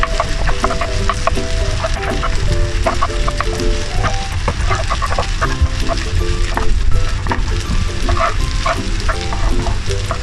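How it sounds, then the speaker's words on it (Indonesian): Nasi goreng sizzles and fries in a pan while being stirred, a loud continuous crackle with scattered scraping and clinking of the spatula, close and steady without speech. "Nah, aduk dulu."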